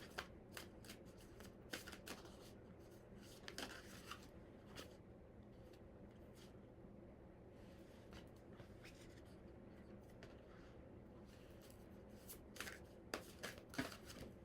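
Tarot cards are shuffled by hand in repeated quick riffles and soft slaps, close and fairly quiet, with sharper bursts near the end over a faint background hum.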